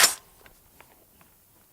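A single sharp report from a Radical Defense MK1 Mod 1 14.5-inch patrol rifle cracks out at the start and decays quickly, followed by a few faint clicks and quiet room tone.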